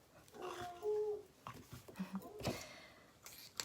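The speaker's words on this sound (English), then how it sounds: "She's probably barking at Lucy" A dog gives faint, distant yips and whimpering barks in short, scattered bursts, quiet against a still background.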